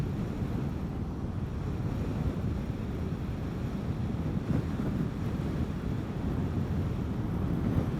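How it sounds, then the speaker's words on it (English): Headwind roars steadily against the rider on a Vespa GTS 300 scooter, a loud continuous low rumble of wind buffeting the microphone with no pauses and no talk. "Pretty good headwind there."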